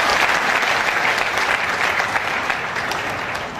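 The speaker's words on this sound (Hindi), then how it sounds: "जोरदार तालियों के लिए चाहूंगा।" Sustained audience applause from a crowd at a Success Day event in Meerut, dense steady clapping that stays loud throughout and tapers slightly at the end, with no talking over it.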